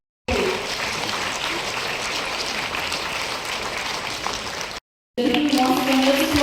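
A crowd gives a sustained round of applause at a formal public ceremony, a dense steady wash of clapping that runs unbroken for several seconds, breaks off briefly, then resumes with a voice sounding faintly underneath.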